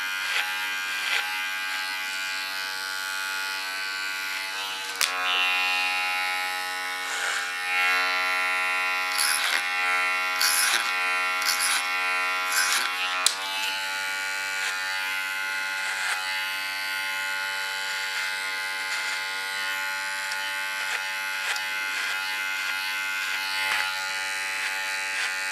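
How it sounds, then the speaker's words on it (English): Electric hair clippers trim a dog's long coat with a continuous close buzz that holds steady throughout, its pitch shifting slightly as the blades move through the hair. "Put my clipper in a common position again. Get rid of all the long hairs on the contour."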